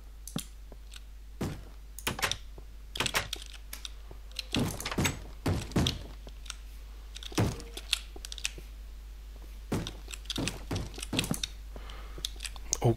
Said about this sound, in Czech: Někde nějaký zombík se dobývá do dveří